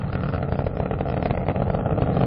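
Space Shuttle Atlantis's three liquid-fuel main engines roaring at launch on the final shuttle flight, a loud, steady, broadband rumble with no pauses and no voices.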